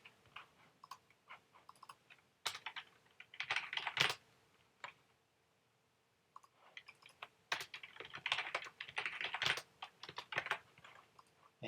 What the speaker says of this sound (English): I think I might be typing it wrong.